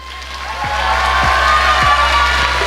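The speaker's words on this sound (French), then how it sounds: "Et nous allons tout de suite accueillir la première candidate sous vos applaudissements" Crowd applause and cheering at a Miss Oise 2018 beauty pageant welcoming the first contestant, a broad wash of clapping with a low rhythmic thump beneath.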